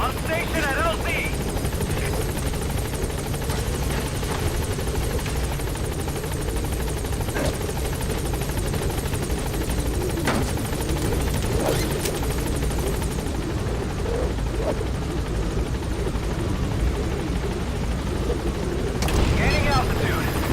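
A support helicopter in Metal Gear Solid V arrives at a landing zone, its steady, loud rotor thump and turbine whine filling the scene, with occasional game effects and radio chatter mixed in.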